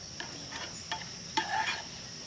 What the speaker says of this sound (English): And I can hear it sizzling.